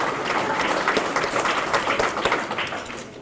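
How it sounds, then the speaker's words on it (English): Steady audience applause at an annual memorial scholarship banquet as an award recipient is called up, dense clapping from a room full of people, fairly loud and continuous throughout. "give Kalasia a round of applause"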